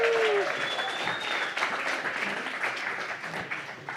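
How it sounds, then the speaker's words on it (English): An audience at a community pub talk applauds a performer with steady, moderately loud clapping that gradually thins, and a faint tonal sound briefly rises near the start. "How about another round of applause for Ahoya?"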